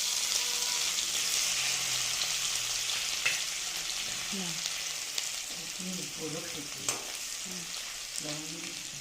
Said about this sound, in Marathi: जिरं मोहरी तडतडली आहे हिंग घालूयात लगेच ह्याच्यावरती लसूण मिरचीचं जे क्रश केलेलं आहे ते